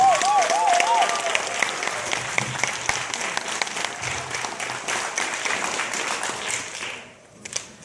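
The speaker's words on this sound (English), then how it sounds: "Give them a nice round of applause." Sustained audience applause fills a hall at a Parent University graduation celebration, dense steady clapping from a crowd that carries on for several seconds before dying away near the end.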